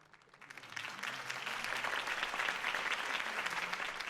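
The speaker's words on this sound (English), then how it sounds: "could have heard that applause" Applause in a Batman video game swells from a few claps into steady clapping from a crowd, sustained and moderately loud with no voices over it.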